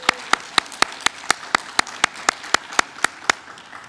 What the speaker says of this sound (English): If we can, round of applause.